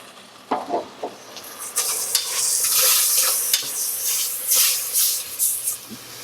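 Spices and masala sizzle and hiss in a hot pan for chicken biryani, stirred in rhythmic scrapes that bring loud, steamy frying surges.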